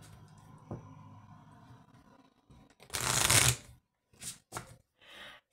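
Oracle cards shuffled by hand, a soft riffle and crisp flutter of card stock in one dense burst, then a few short separate flicks, close and fairly quiet with no talking.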